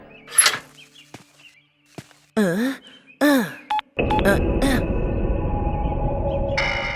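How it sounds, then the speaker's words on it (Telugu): Brief knocks and rising electronic tones give way to a steady phone dialing tone that holds for several seconds. "మీకే శివ ఫోన్ చేస్తున్నాడు"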